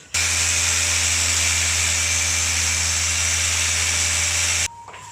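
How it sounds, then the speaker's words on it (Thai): A power drill bores into a wall to make a hole for a light switch box, giving one loud, steady whining grind for about four and a half seconds before it stops abruptly. "เนี่ยเจาะบล็อกนะ เจาะบล็อกเสร็จ"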